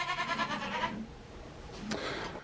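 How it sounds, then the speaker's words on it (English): Goats on a farm bleat in a loud, wavering run during the first second, then fall quiet before a second shorter bleat near the end, close by in a barn setting. "The goats are excited."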